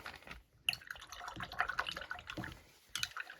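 A paintbrush rinsed in water, with soft close splashes and drips coming in short irregular bursts, fairly quiet.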